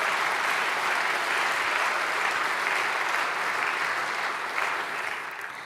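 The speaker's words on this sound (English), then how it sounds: "Let's give them another round of applause" Dense, steady applause from a forum audience for the band, a loud wash of many hands clapping without pause that tapers slightly at the very end.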